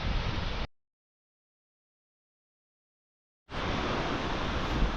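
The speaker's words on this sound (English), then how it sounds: "So the river running through, cascading around the mountains and hills, right up to the actual falls themselves." A river cascades toward a waterfall near Melbourne, its broad rushing hiss cutting to dead silence for a few seconds before resuming just as loud and steady.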